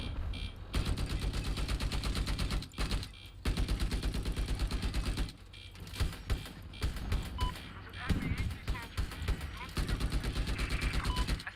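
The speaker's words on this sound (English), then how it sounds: "What is this thing that is shooting?" Sustained automatic gunfire from Battlefield 2042 gameplay, loud rapid bursts with brief pauses between them, layered with other in-game combat noise and a voice talking over it.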